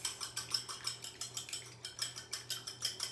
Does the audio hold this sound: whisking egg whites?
yes